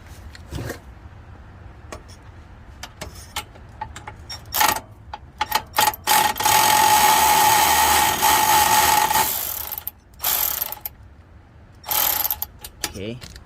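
Ratchet wrench tightening the bolts on a Nissan 370z differential brace, heard as bursts of rapid clicking from about six to nine seconds and again near twelve seconds, close and fairly loud, with scattered clanks and handling noises between.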